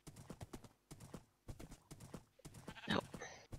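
Rhythmic clopping of horse hooves in Minecraft, steady and fairly close, with game sounds and a brief louder burst near the end.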